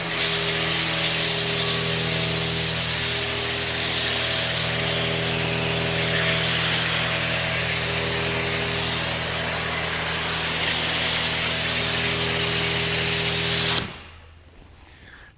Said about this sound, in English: We'll just foam it down inside there.